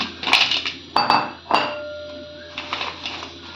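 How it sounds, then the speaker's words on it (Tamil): Crispy homemade French fries being moved onto a plate, producing a few close clinks and clatters of utensil against dishware in quick irregular bursts, then quieter light taps. "இப்போ பிளேட்டில் மாற்றிக்கிறேன்"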